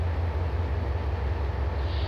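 An ICE high-speed train in the ProTrain Perfect video game runs with a steady, loud, low rumble and a constant rolling drone, with no talking.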